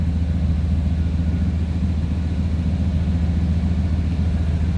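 A 1994 Chevrolet C1500 Silverado pickup engine idles steadily at close range, a constant low rumble with no change in pitch and no voices.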